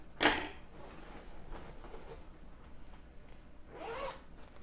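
Zipper on a handmade fabric storage pouch for crafting supplies is pulled in a quick, loud rasping stroke, followed after a pause by a second, softer zip, close up with no voices.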